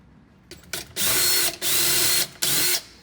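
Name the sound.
power drill drilling a pilot hole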